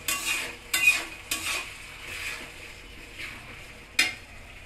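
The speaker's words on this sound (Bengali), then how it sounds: "রসুন বাটাকে হালকা ভেজে নিব যেন আদা রসুনের গন্ধটা চলে যায়" Ginger and garlic paste frying in a pan, with a soft sizzle under repeated scraping and stirring strokes that come in several distinct bursts, close by.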